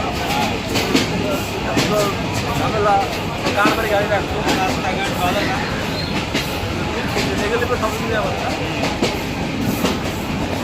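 Rumbling interior of a moving train with rhythmic clickety-clack of wheels on rails, steady and loud, with people talking over it.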